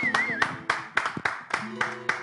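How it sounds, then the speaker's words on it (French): Rhythmic hand clapping in unison at a church service honoring the pastor, sharp claps repeating about every half second over a bed of voices and tonal sounds, fairly close and moderately loud. "Applaudissez pour le pasteur."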